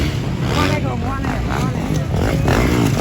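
Yamaha YZ450F 2024 motocross bike revving hard during a 450cc intermediate class final heat at a motocross festival, a loud steady engine drone with rising and falling pitch, mixed with crowd noise and a commentator talking over it.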